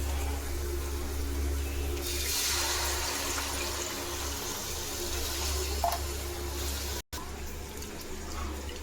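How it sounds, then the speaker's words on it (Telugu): Water runs and splashes into a bowl of tamarind pulp for a village-style fish curry, a continuous close pour with a low hum underneath, briefly cutting out near the end before resuming. "మళ్ళీ వాటర్ పోసుకుని తీసుకుంటున్నాము."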